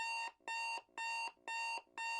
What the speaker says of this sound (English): my day starts with a 6 o'clock alarm